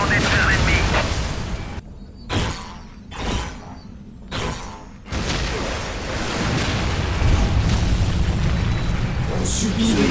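Battle in the Dawn of War game on the Kronus map, Blood Ravens against Necron: heavy booming explosions and cracking gunfire in dense bursts with brief lulls, with voices in the mix.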